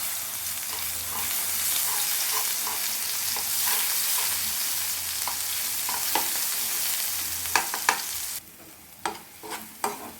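A ground paste of small onions frying in oil with a mustard and fenugreek tempering for thokku: a loud, steady close sizzle, then the sizzle suddenly quiets, followed by a few clattering stirs and knocks of a spoon against the pan.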